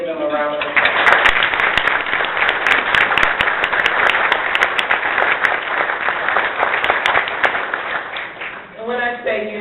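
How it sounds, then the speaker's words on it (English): Large audience applauding council members at a city government event, a dense sustained wash of clapping with crisp individual claps, rising and fading, with a voice speaking briefly at the edges. "Would you please give them a round of applause?"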